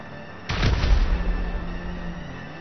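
A single grenade explosion in GTA Online, a sudden loud boom that rumbles and decays over about two seconds.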